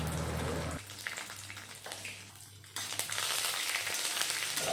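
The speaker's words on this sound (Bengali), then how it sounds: "শুকনো লঙ্কাটা একটু ভেজে নিয়ে দিয়ে দিলাম ছোলার ডাল" Dry red chillies, chana dal, mung dal and garlic frying in oil, a steady close sizzle with stirring scrapes, quieter in the middle before the crackle swells again.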